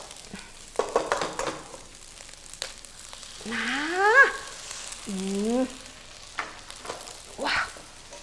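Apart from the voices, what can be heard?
egg frying in a pan for fried rice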